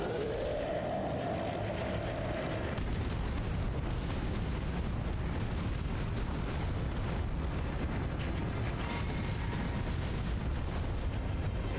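Fire attack explosions from the Elden Ring video game, a dense, continuous roar of blasts and rumbling that stays loud for the whole stretch, with a rising whoosh near the start and no talking.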